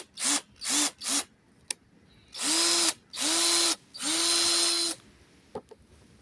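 An electric drill runs in a series of bursts: three short whirring pulses, then three longer sustained runs, each spinning up and stopping, loud and close with small clicks between and no talking.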